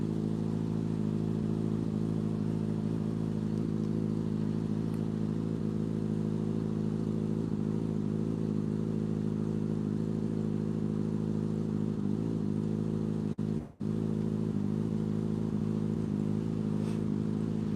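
A motorcycle engine runs steadily in a shed, a loud, even mechanical drone holding through the whole stretch, with one brief sharp dropout near the end and no voices.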